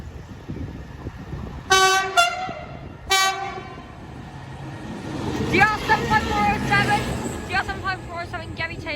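A train passes Llantrisant West level crossing in Rhondda Cynon Taf, sounding several loud two-tone horn blasts early on, followed by rumbling wheels and a ringing crossing alarm over rail noise.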